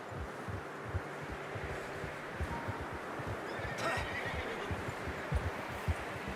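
A horse in the video game Red Dead Redemption 2 whinnies amid soft hoof clip-clops and rustling ambience, the neigh rising clearly near the middle of the clip with no talking.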